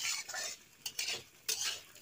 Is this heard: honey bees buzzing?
no